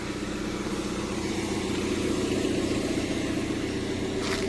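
A car engine idles and runs steadily at close range, a continuous low droning hum with even tone and no speech over it.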